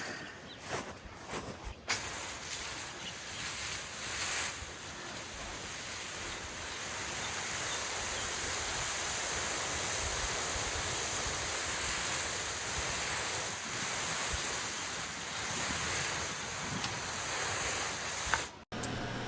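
A garden bed of freshly sown seed being watered in, a steady broadband hiss of spraying water running continuously for most of the stretch, with a brief pause near the start and a short break near the end.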